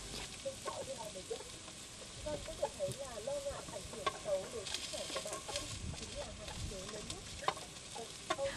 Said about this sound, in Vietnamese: họ dùng chiếc vung nồi mỏng cho cá lên trên để nướng